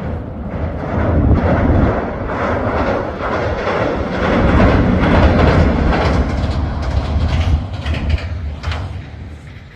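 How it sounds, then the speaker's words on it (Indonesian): A noisy passing train rumbles loudly and steadily, its wheels clacking in a rough rhythm throughout with no voices over it. "Ini kereta api berisik banget ya."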